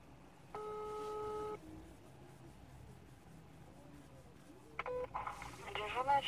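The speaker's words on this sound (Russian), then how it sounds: "Экстренный вызов 102. Пытаемся звонить" Telephone keypad dialing the emergency police number 102: a short cluster of dial tones early, then a quick run of beeping key tones near the end, fairly faint in a quiet room.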